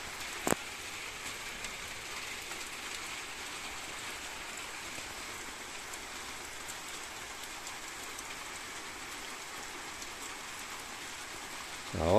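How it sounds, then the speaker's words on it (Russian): Steady, even rain patters down on surfaces, a constant soft hiss with a single brief knock near the start. "разбудил нас этот шум дождя"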